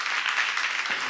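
A church congregation applauds during a Korean sermon on Genesis, giving a dense, steady patter of clapping at moderate level for about a second with no voices on top.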